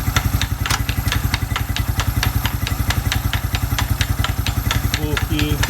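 A Suzuki Quad Runner 250 ATV engine runs close by with a fast, steady chugging pulse that holds even as the gears are shifted up through the box.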